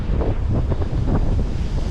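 Ocean waves surge and break against shoreline rocks during a big set at a rock-fishing spot, a loud continuous roaring wash buffeted by heavy wind noise on the microphone.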